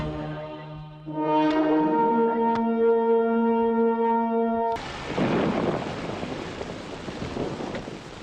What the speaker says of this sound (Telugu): వర్షం పట్ట మంచిదేగా భూమి చల్లబడుతుంది